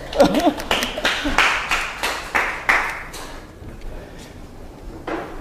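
A handful of scattered hand claps from a small audience at a startup business talk in a shop, strongest in the first three seconds before trailing off, with murmured voices underneath.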